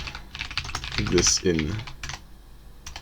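Rapid clicking keystrokes come from a computer keyboard while someone edits text in a text editor. A person briefly speaks over the close, uneven tapping.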